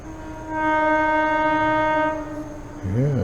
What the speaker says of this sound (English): you can hear the toot-toot of the train